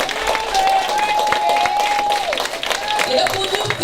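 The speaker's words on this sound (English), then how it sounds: "Keep clapping." An audience at a live conference event claps steadily throughout, with crowd noise and a voice speaking over the applause.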